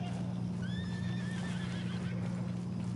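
Horse neighing in the video game Red Dead Redemption 2, a single drawn-out whinny that rises and wavers across the middle of the clip over a steady low engine-like hum and faint hoof clatter.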